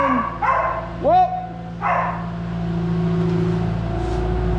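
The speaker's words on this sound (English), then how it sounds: "Don't be out here barking" A dog barks a few times outdoors near a vehicle, sharp yips and a short whining bark in the first seconds, followed by a steady engine-like hum; a person's voice is heard as well.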